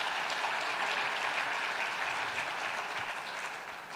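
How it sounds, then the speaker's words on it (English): Audience applause at a business forum, an even wash of many hands clapping that holds steady and begins to taper toward the end, fairly distant and with no speech over it. "a round of applause if you appreciated those two lessons."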